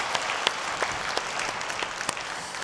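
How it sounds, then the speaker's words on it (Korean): A church congregation at an early-morning prayer service claps for the worship team, a steady, even wash of many hands with no voices over it. "박수로 격려하겠습니다."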